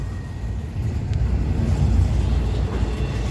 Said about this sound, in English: Wondering where this train comes from.